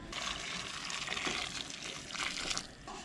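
Hot water pours steadily into a container while mapo tofu is being prepared, a continuous splashing gush at moderate level lasting a few seconds, with no talk over it.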